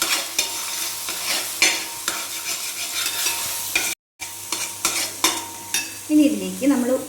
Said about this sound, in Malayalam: നെയ്യിൽ ഒന്ന് ഇളക്കി കൊടുക്കാം കേട്ടോ.